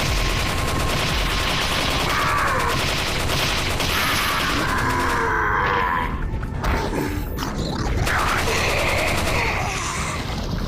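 Machine gun fire in the Resident Evil 4 VR Mercenaries challenge mode, a dense, loud, continuous stream of gunfire and game effects filling the whole stretch, with no clear pauses.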